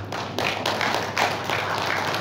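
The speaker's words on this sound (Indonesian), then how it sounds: "Alhamdulillah, tepuk tangan." Audience applause at a Ramadan evening gathering of a school alumni forum, dense hand clapping from a crowd sustained throughout, fairly loud and steady with no speech over it.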